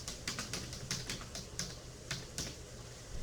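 Computer keyboard typing close by, a quick irregular run of soft clicking keystrokes over a faint background, with no voices.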